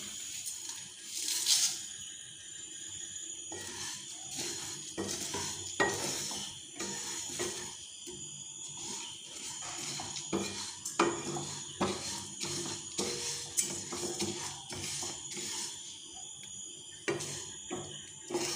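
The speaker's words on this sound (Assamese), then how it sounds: "এতিয়া কেৰাহীখন গৰম হৈছে। মই ইয়াৰ মছলাখিনি ভাজি ল'ম।" Spices frying in a hot iron kadai for chili pickle, giving a steady crackling sizzle broken by sharp clinks and scrapes of a utensil against the pan, with no talking.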